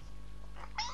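A cartoon cat meows in the Catz 5 video game, a short rising meow near the end of one second over a steady low game hum.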